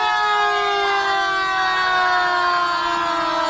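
Fire department engine siren at a Halloween parade, a loud sustained wailing tone holding steady close by with a faint slow pitch drift throughout, no voices.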